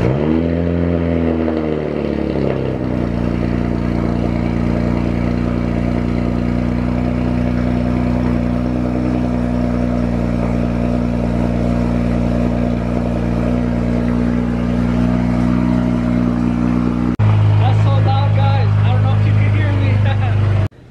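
A BMW 135i engine cranks and catches, then settles into a steady, loud idle that holds for a long stretch before a sharper, louder rev near the end.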